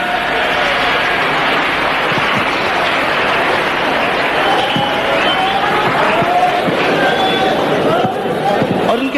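Audience applause at a live music show in Abu Dhabi, steady clapping from a crowd heard under someone speaking through the hall's sound system.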